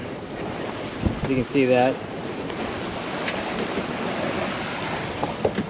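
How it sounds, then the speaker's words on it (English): Aboard a close-hauled sailboat sailing from Maine toward Nova Scotia, a steady rush of wind and sea wash fills the air, with microphone buffeting and a brief spoken phrase over it. "It's windy, still blowing out of the south."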